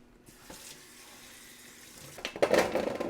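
Potatoes being washed under a running kitchen tap, a soft trickle of water that swells into a louder, splashing rush near the end.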